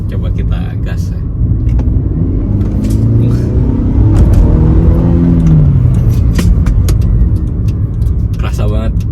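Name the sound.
Mercedes-Benz W204 C200 engine revving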